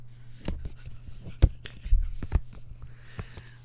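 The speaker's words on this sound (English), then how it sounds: "This is the sound of Magic the Gathering cards." Magic the Gathering cards being handled during a draft, giving soft irregular taps, slides and flicks, close and fairly quiet, with no talking.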